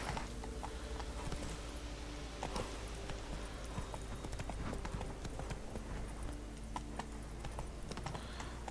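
Roach, a horse in The Witcher 3 video game, gallops with steady, rapid hoof clip-clops under a continuous background of game ambience.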